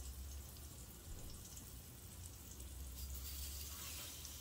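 Garlic butter fish sizzles in hot oil in a pot, a continuous close crackling fry with a low rumble beneath, steady throughout without talk.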